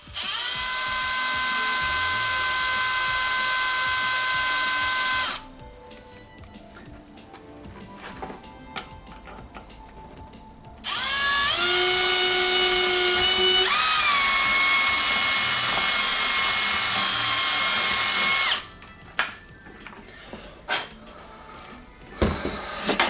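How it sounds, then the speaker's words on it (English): A high-pitched power drill whines loudly through two long bursts while drilling through a pinball ramp, its pitch dipping under load. Quieter handling noises fill the pause between them and follow at the end. "I'm going to actually just drill through to make sure whilst I've got them in place."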